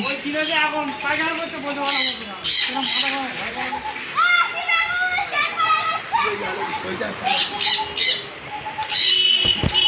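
Many pet birds, including lovebirds and pineapple conures, squawk and chirp in a busy chorus inside a bird shop, loud and close, with people talking over them throughout.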